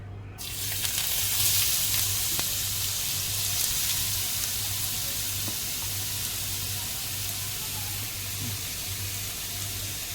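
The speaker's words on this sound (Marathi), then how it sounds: "याच्यामध्ये आपण भाज्या टाकून परतवून घ्यायचं आहे." Cabbage and other vegetables tossed into a pan of hot oil for veg cutlets, giving a steady, close sizzling hiss that starts almost at once and holds evenly throughout.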